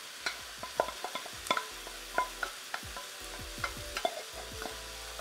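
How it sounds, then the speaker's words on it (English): Peas frying in a pan as a rich curry sauce is added, with close, steady sizzling and repeated scraping stirs of a utensil against the pan, alone without talk. "Now, in for this lovely, rich curry sauce that we made earlier."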